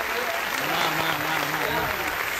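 Dense audience applause from a crowd at a televised show, steady and loud throughout the short stretch with faint voices underneath.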